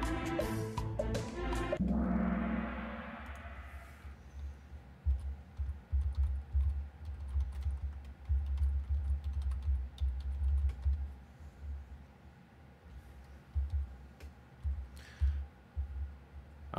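Keyboard typing during an online interactive quiz game, a quick run of clicks at the start, then a steady irregular patter of muted keystrokes close to the microphone, with no speech.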